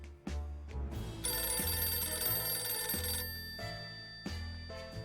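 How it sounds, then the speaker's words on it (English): A telephone rings from a street phone booth in the video game 60 Seconds 2. Repeated electronic ring bursts play alongside low, rhythmic game music, clear and moderately loud. "suddenly a phone starts ringing from somewhere outside. We figured it's the phone booth across the street."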